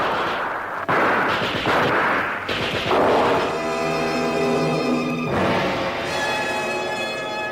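Heavy gunfire and booming artillery roll through a war film battle scene, loud and dense, with overlapping blasts and sustained rumbling and no clear talk.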